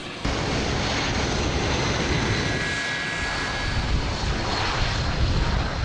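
Engines of firefighting air tankers, including DC-10s, at McClellan Air Tanker Base give a loud, steady, broad roar that fills the whole stretch with no voices.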